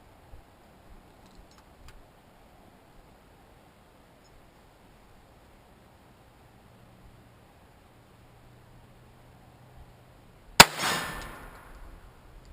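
A single sharp crack from a Ruger 22/45 pistol firing CCI Mini-Mag .22 ammunition rings out after a long, near-silent pause, then decays quickly.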